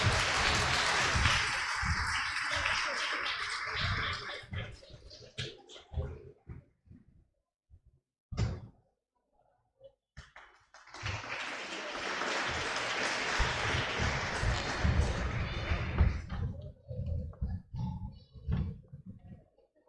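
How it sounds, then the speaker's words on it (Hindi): An audience at a youth cultural evening claps loudly for two performing groups, two bursts of dense applause separated by a brief lull with a few scattered claps. "दोनों ग्रुप वाले बहुत जोर से ताली बजाएंगे"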